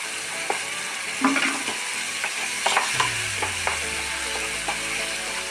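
A curry leaf pickle mixture with asafoetida powder simmers and reduces in a pan, giving a steady close sizzle broken by scattered spoon scrapes and clicks, with a low rising hum entering midway; no one speaks.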